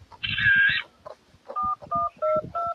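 Phone keypad dialing tones: a sustained electronic tone, then four short, evenly spaced two-note beeps, close and clear with faint background noise and no talk.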